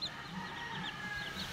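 Chickens on a rural farm, roosters and hens, clucking faintly at a distance, a few soft overlapping calls against low background noise.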